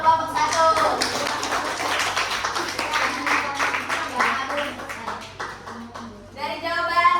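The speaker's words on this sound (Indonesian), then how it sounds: "Beri tepuk tangan dong untuk kelompok" Classroom applause for a group of students, a burst of many hands clapping through most of the stretch, with children's voices talking over it and near the end.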